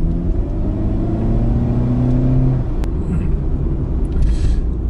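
Honda Fit 2 hybrid with a 1.3-litre engine driving on the road, a loud steady low engine drone and road rumble from inside the cabin, with pitch shifting as the car accelerates.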